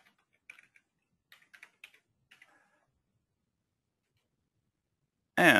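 Short bursts of keystrokes as a password is typed on a computer keyboard, several quick clusters of taps in the first half, then quiet, with a sudden loud burst at the very end.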